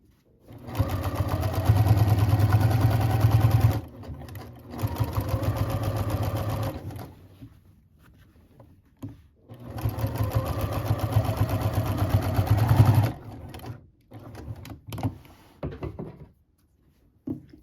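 Sewing machine back-stitching a seam on a removable pillow cover, overlapping the previous stitching, running in a few loud, steady mechanical bursts separated by short pauses and lighter handling noise.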